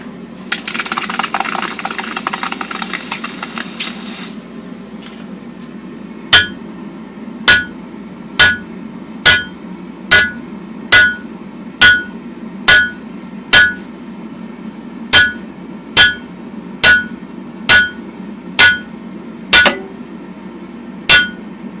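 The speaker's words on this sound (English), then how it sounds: "Upset it, put it on the anvil, and fuller down with it." Hot steel is struck on an anvil with a fuller, a loud, evenly spaced series of sharp ringing hammer blows following a brief stretch of roaring forge noise.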